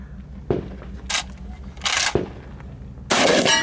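Shotgun slugs fired at a 2015 MGM Ironman shooting match: four sharp, loud blasts at irregular intervals, close by, with quieter ambient noise between them.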